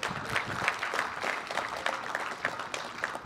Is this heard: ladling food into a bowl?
no